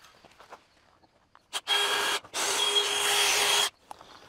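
A power cutter slices off a bolt anchored in a garage's concrete floor, sounding two loud harsh bursts of about half a second and a second and a half with a brief gap between, set against quiet surroundings.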